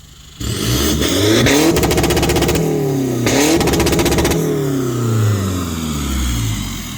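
A pink pickup truck's engine, freshly retuned with a wastegate fix and valve-float correction, revs loudly up close, its pitch climbing and falling through repeated throttle blips with a buzzing, rasping tone.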